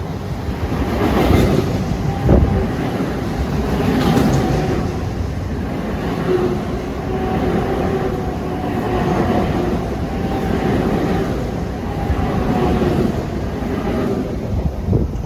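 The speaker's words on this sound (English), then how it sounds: "Here comes a train with an old diesel number prior to the big schedule change last year. 2716, Grand Central to Far Rockaway." A Long Island Rail Road train, number 2716 from Grand Central to Far Rockaway, rolls through Forest Hills station in the morning rush with a loud, steady rumble and rail clatter, and wind buffets the microphone.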